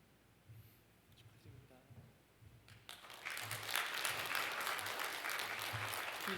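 Church congregation at a Korean church's discipleship school graduation applauding the graduates, a faint murmur that swells into sustained, moderately loud clapping through the second half.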